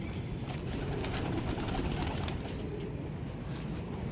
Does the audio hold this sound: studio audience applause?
no